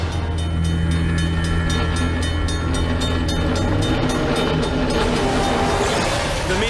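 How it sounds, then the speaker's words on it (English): A train rumbles loudly past at close range, its horn sounding steadily over the rhythmic clatter of wheels on track, no talking. "the sound of a westbound train"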